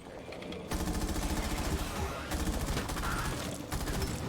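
Rapid, sustained bursts of automatic gunfire in Rainbow Six Extraction as Tormentors are shot, loud and close with brief gaps between volleys and no talking.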